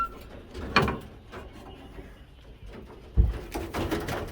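Pigeons in a breeding loft give faint low coos amid quiet indoor clatter, with two sharper knocks or wing flaps standing out nearby, and no talking.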